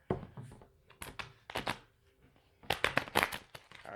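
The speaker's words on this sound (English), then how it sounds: "Do 3 shuffles." Tarot cards shuffled by hand in a few quick bursts of riffling and slapping, fairly close and quiet, with short pauses between the shuffles.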